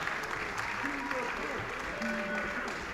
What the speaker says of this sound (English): let's give a round of applause to the fighters, all the fighters tonight